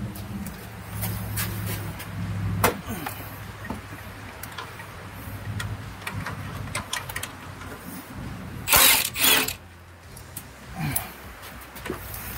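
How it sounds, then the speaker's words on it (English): A 12 millimeter ratchet wrench loosening bolts on a 2010–2015 third-generation Toyota Prius engine during head gasket repair, giving close, light clicking ticks in uneven runs, with a louder rattling burst midway. "I have to use the ratchet wrench for the 12 millimeter ratchet wrench"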